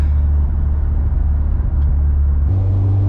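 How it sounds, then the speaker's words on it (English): A 612 bhp VW Golf R accelerates hard in second gear, a loud, close, deep engine roar heard from inside the car, dropping to a steadier lower drone near the end as power eases. "Let's try 2nd gear."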